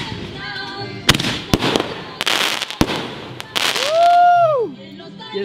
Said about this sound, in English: I think that's a wrap on our fireworks